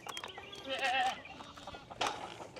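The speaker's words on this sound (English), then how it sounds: "Get out of here, goat." A goat on a small farm lets out a loud, wavering bleat close by, followed moments later by a second, shorter bleat, with scuffling noise underneath.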